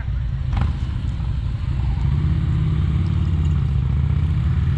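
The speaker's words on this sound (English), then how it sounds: "And all the bikes are coming through here." Motorcycles roll past on a warm-day ride, a steady loud engine drone with low rumbling revs continuing throughout, mixed with wind noise and no clear breaks between passing bikes.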